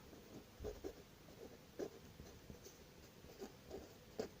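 Pen strokes on paper scratch and tap in short, irregular bursts as a teacher writes out an answer by hand, quiet and close, with no talking.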